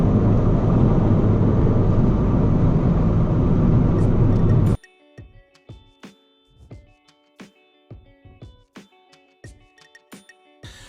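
Tuned Ford Fiesta ST pulled flat out in third gear from 2000 RPM, a loud close engine roar that climbs steadily for several seconds, then cuts off abruptly into sparse clicks and ticks.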